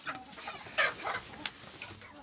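Farm chickens cluck and squawk in short, irregular bursts at moderate distance, with faint background noise between calls and no talk.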